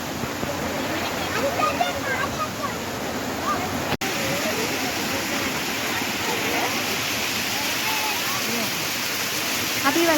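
A waterfall roars steadily and loud at close range, a dense continuous rush of falling water with no pauses, heard on a forest trail beside the falls during a dry spell with low water flow.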